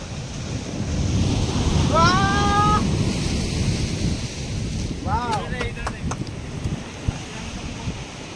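Sea waves surge and wash onto Arjyapalli beach in Odisha under constant wind buffeting the microphone. A few brief whistle-like tones cut through the rolling surf.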